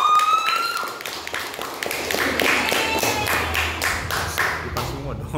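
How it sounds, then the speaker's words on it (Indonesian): A class applauding a student group after a presentation, brisk close claps building into steady rhythmic clapping with voices and chatter mixed in among the students. "boleh tepuk tangan untuk kelompok ini"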